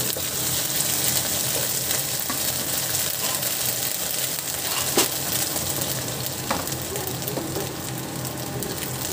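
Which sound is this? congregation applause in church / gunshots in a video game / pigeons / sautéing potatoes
sautéing potatoes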